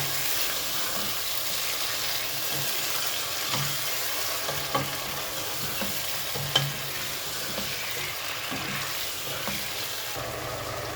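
Broiler chicken meat frying in a cooked-down spice paste for bhuna khichuri, a steady close sizzle with stirring scrapes and small pops throughout, no talking.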